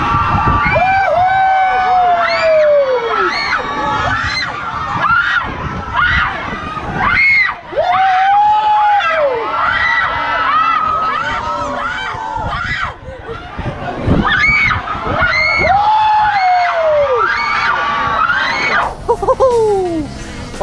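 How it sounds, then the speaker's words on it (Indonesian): Riders scream together on the Pirate Revenge ride at Sunway Lagoon water park, loud overlapping shrieks and yells that rise and fall in waves close by, with shouting and crowd noise mixed in. "kau dengarlah sendiri semua orang menjerit naik Pirate Revenge ni."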